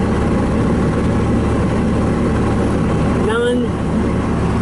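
A 2005 Bobcat T180 rubber-track skid steer loader with a Kubota diesel engine idles in a steady low rumble. A brief rising whine cuts through partway in, and no voices are heard.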